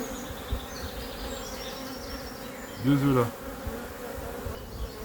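Honeybees buzz in a steady, dense drone from an open hive, with one bee passing close and loud for a moment, and a person speaking briefly over the hum.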